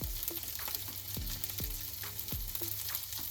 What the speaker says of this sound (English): I'm going to add marinara sauce to my pot, like so